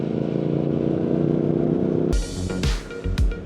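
Triumph Speed Twin motorcycle engine droning steadily, then a few sharp throttle blips and revs near the end, loud and close with no talking.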